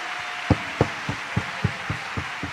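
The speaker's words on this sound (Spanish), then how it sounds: "Un aplauso como que estoy recibiendo la palabra." In a church service, a congregation claps in a steady rhythmic beat, about nine sharp, evenly spaced claps over a soft background hiss.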